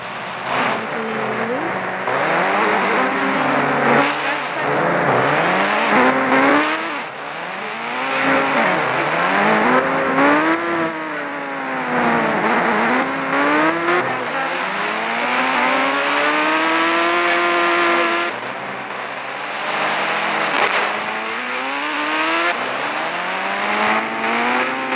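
Engine of a motorbike ridden in the video game Indian Bike Driving, loud and continuous, rising and falling in pitch through repeated revs and gear shifts, with no talk over it.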